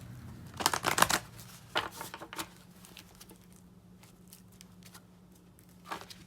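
A deck of cards is shuffled by hand close by, with a quick burst of riffling flutters followed by a few softer scattered shuffles and card taps in a quiet room.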